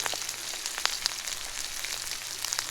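Spice powders, including turmeric, chili powder and salt, fry in oil in a pan for a dried taki fish bhuna curry, a steady close sizzle with small crackles and pops throughout.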